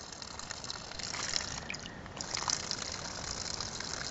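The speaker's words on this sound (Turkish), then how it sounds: "İşte yine bir su kaynağı şırıl şırıl akıyor." Spring water trickling and flowing steadily from a mountain source outdoors, a continuous soft splashing babble heard close up.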